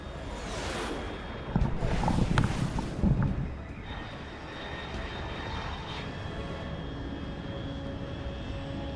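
A fast jet aircraft in Metal Gear Solid 3 roars overhead, swelling to a loud rushing peak and then fading into a steady distant engine drone.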